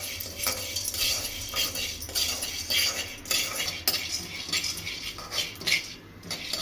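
Sunflower seeds dry roast without oil in a pan for homemade chutney powder, with repeated metallic scraping and clinks from a utensil stirring them, close and fairly quiet.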